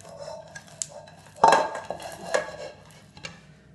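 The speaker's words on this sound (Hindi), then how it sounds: "जितना भी कढ़ाई में मिक्सचर है उसको हम निकाल लेते हैं" A utensil scoops hot sesame chikki mixture out of a metal wok, giving a few light scrapes, then a louder metallic clank and several softer clinks, close up with no talking.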